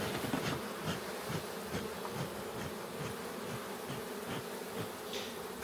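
A dense, continuous hum of many honeybees buzzing close by at an apiary during honey harvesting in Çatalca, Istanbul, steady and unbroken throughout.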